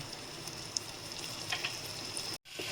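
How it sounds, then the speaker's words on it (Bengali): Steady soft sizzling of chopped ginger and garlic frying in oil in a pan, faint and continuous, with a brief cut to silence near the end. "আদা রসুনটা আমার আধ ভাজা মতন হয়ে গেছে"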